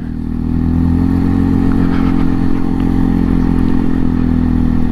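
Engine of a 2022 Segway AT6 SX 570 CVT ATV accelerating, a loud steady drone with strong low harmonics and rattling clatter holding constant throughout, close up with no speech.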